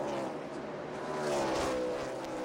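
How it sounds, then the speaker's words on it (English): NASCAR race cars at Bristol produce a steady, fairly distant engine roar with a broad wash of crowd and track noise. No commentary is heard. "he continues to move forward with this one car as he just got him another car as he's battling Jeff Gordon in that 24"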